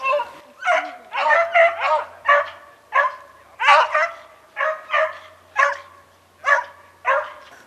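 Hunting dogs on a rabbit hunt barking in a steady run of loud, evenly spaced yelps and bays, close and unbroken by talk.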